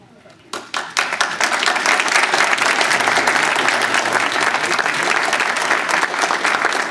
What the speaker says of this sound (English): and we applaud it.